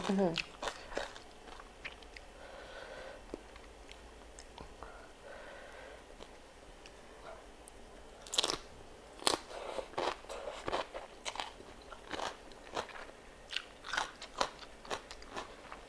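Someone eats Thai fermented fish (pla ra) up close, with crunchy bites and wet chewing that come in bursts, louder in the second half, between snorts and sniffs.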